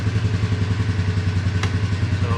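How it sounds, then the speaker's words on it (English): A 2021 Polaris Ranger 500 side-by-side engine runs close by with a steady, loud idle and a throbbing, clattery rhythm and one brief click partway through. No voices are heard. "And you step on the brake to start it, of course."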